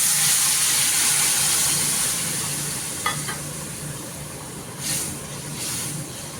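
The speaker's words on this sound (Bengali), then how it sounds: "ফুটন্ত গরম জল এবার কিন্তু এর মধ্যে আমি ঢেলে দিচ্ছি।" Boiling hot water is poured into spice paste frying in a pan for a Bengali fish curry, giving a loud, steady hiss and sizzle that slowly eases, with a brief extra flare of bubbling toward the end.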